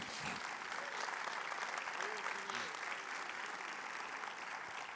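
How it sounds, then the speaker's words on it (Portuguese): A church congregation at a couples' service applauds with a soft, continuous patter of clapping, fairly faint and distant, while a voice briefly rises over it. "Vamos aplaudir ao Senhor, meus amados."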